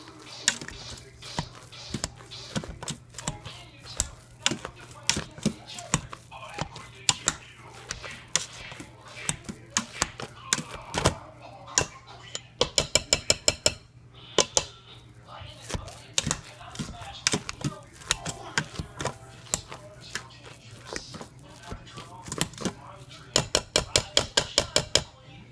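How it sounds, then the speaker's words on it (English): Cooked potatoes, pressure-cooked in an Instant Pot, being mashed by hand with a potato masher, giving a long run of close, repeated soft squishing thuds and knocks against the pot, with clusters of quick rhythmic strokes. "I got my potato masher here. I'm mashing it up."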